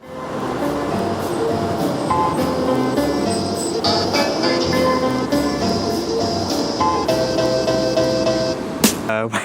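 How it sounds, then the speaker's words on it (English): A train pulls into a noisy outdoor station near a main junction, its loud rumble and wheel noise filling the scene with steady tonal whines and squeals, and a sharp burst near the end. "There's a train coming, this is my train."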